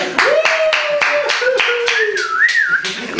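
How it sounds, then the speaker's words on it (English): A crowd claps in an even, rapid rhythm, loud and near, while a whistle rises and wavers over the beat. "And the crowd goes crazy."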